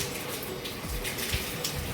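Steady rain falls on a cold, cloudy winter morning in Chhattisgarh, a continuous even wash of water noise with no voices over it.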